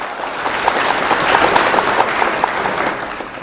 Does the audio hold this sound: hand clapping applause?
yes